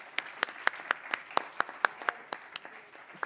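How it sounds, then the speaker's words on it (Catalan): Sparse applause for a panel at a political and social sciences conference, a handful of separate sharp claps in an uneven rhythm that gradually thins out, fairly close and with no talk. "Permeteu un aplaudiment també per la taula."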